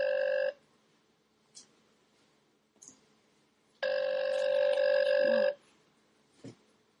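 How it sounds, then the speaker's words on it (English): A telephone rings during an outgoing call. A short ring at the start is followed by a longer ring tone a few seconds later, clear and close against near silence, with faint small noises in between. "It's ringing."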